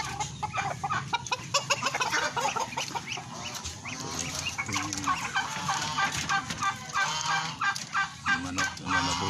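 A mixed flock of backyard poultry, chickens and a rooster with turkeys nearby, clucks and calls continuously and fairly close, the chatter dense and overlapping throughout.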